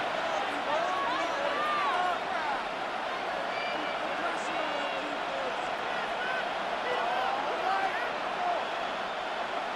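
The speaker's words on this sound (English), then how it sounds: "This crowd into it now." Stadium crowd roaring in a Madden NFL 26 playoff game late in the fourth quarter, a dense continuous swell of cheering at steady moderate loudness beneath commentary.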